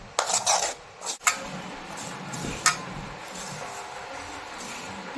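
ABC malt mixture stirred in a pan with a spoon, giving a few sharp scraping clinks at first and then a softer, steady rubbing and scraping.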